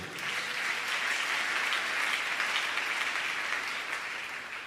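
A church congregation claps together in a dense, even burst of applause that swells and holds steady for several seconds, with no voices over it.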